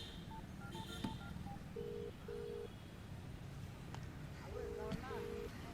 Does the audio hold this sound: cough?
no